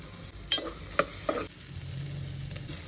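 Ginger and garlic fry in hot butter in a pan for spicy macaroni, a soft close sizzle punctuated by three sharp spoon clinks against the pan early on, with no voices.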